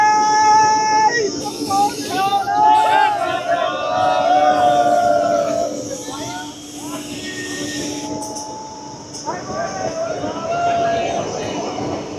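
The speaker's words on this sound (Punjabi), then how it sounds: "ਦੁਬਾਰਾ ਚੱਲੇ ਪਾਤੇ ਟ੍ਰੇਨ ਨੇ" A passenger train pulls away again from a station stop, heard up close with a steady rumble, squealing wheels and shifting metallic tones throughout, loud and continuous with people talking over it.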